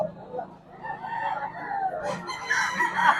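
A Gilmore Sweater gamefowl rooster crows once, fairly near, its call rising into a strained, drawn-out end, with faint background noise and murmuring around it.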